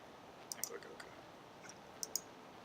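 Sharp computer mouse clicks, two close pairs of quick taps, sounding near and crisp against a quiet room.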